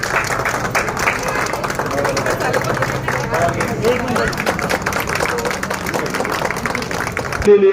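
Sustained applause from an audience at a lucky-draw prize ceremony for a textile market, steady clapping mixed with crowd murmur throughout, then cutting off abruptly at the end.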